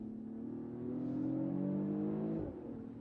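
Mercedes AMG engine inside the cabin, a low humming rev climbing gradually then easing off near the end, steady and moderately quiet with no voices.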